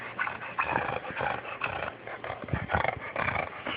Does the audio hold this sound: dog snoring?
yes